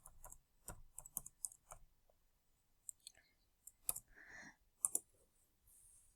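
Crisp mouse clicks on a computer, a quick cluster of sharp clicks followed by a few scattered single ones, close and quiet with silence between.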